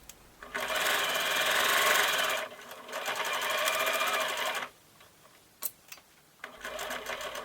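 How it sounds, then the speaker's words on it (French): Sewing machine stitching all the way around a pocket, loud close bursts of rapid needle rattle with brief pauses and a few small clicks between runs. "Je couds tout le tour de la poche"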